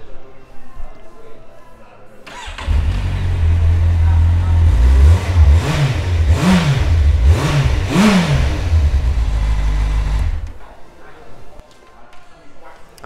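A 2014 Kawasaki Z800 motorcycle fires up and idles, then gets three sharp throttle blips that rise and fall before the engine cuts out. A voice is heard around it.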